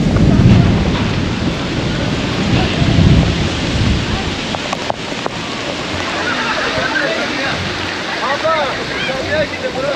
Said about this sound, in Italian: Ci ha sorpreso il temporale.